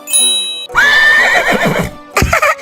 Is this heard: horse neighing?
yes